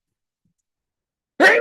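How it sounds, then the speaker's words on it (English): A single sharp sneeze bursts out abruptly after silence, close and loud, brief and alone. "I usually know when a sneeze is coming."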